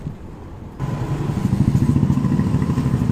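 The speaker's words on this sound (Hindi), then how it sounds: "alright so that's the rickshaw right there" An auto rickshaw engine arrives close by, its pulsing, rattling putter starting abruptly and then chugging rhythmically and loudly, with no speech over it.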